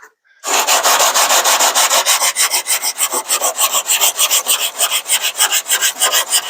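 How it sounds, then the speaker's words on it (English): Rapid rhythmic back-and-forth block sanding of body filler on a car quarter panel, loud and close, a rasping scrape repeating roughly five times per second after a brief quiet start. "Still high right there, so I'm gonna keep sanding a little bit."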